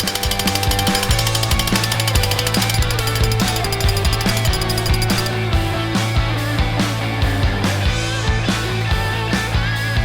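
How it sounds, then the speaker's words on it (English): A loud, continuous jackhammer breaks thick concrete at close range, pounding rapidly and steadily, a harsh mechanical hammering that runs throughout without pause, during farm silage pit maintenance. "we've got a jackhammer, because that concrete is thicker than we thought it was going to be"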